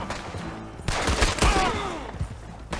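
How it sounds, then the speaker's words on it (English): Gunfire in Red Dead Redemption 2 comes as a rapid volley of overlapping loud shots with ringing echoes, crowded together for a few seconds in a game shootout. "these are the ones I'm shooting"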